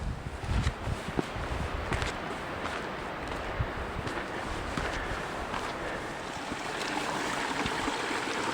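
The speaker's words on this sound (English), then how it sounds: "Oh, that's the first flowing water source we've crossed." A flowing stream crosses a Colorado mountain hiking trail near Diamond Lake, giving a steady broadband rush of water throughout, with a few soft footstep-like thumps near the start.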